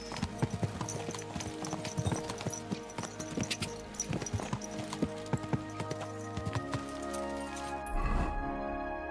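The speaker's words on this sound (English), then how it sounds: "Let's really spur these horses on, eh?" Rapid, rhythmic clip-clop of several horses' hooves at a brisk pace in the video game Kingdom Come: Deliverance II, layered over a music-like tonal background, with a brief horse snort near the end.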